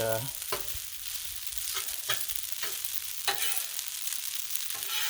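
Shrimp for scampi sear on a Blackstone griddle with a steady, bright sizzle, broken by a few scraping spatula strokes across the flat-top.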